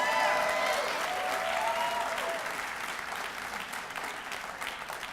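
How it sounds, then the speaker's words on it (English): Audience applause at a Year Up Greater Boston graduation ceremony, a broad wash of clapping that starts loud and holds steady, tapering slightly over about five seconds with no talk over it. "Yeah, go ahead, applaud."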